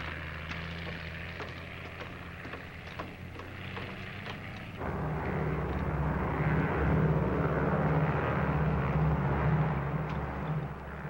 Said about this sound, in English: United Airlines mainliner service flight 608 from Los Angeles. Now arriving at gate 2.